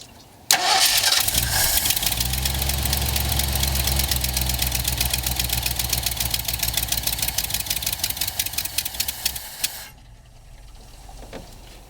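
A car engine fitted with a Motorcraft 2100 or 2150 carburetor, warmed up, cranks and catches, then runs loud and close with a steady pulsing roar for about nine seconds before cutting off abruptly into quiet.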